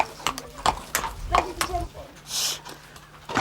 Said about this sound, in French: Ça, c'est un vrai cheval.